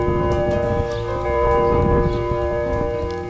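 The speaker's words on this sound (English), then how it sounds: "We have ghosts that ring bells!" Bells ring with a sustained, layered metallic tone that hangs steadily and fairly loud throughout, over a low rumbling background without speech.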